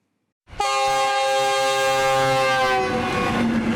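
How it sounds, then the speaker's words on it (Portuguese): A passenger train on the railway line in Luanda sounds a loud, sustained horn that starts abruptly after a brief silence. A rumbling, rattling passing train runs beneath it, and no voices are heard. "Este é um dos comboios que facilita diariamente a circulação dos cidadãos na província de Luanda"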